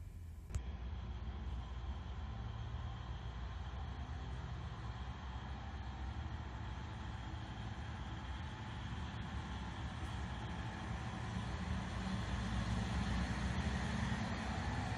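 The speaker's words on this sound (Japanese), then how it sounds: "長山駅跨線橋から列車を見送ることにしました。" A train pulls away from Nagayama station on the snowy Soya Main Line, heard from a footbridge as a steady, loud rumble of engine and wheels that persists throughout, with no talk.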